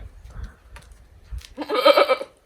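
A male goat on a farm with a livestock guardian dog gives a loud, close, wavering bleat that lasts about a second, following a few soft rustles and thumps.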